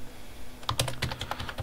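A short run of crisp keystrokes on a computer keyboard, starting after a brief quiet moment, with quick clicks in an uneven rhythm, fairly close and clear.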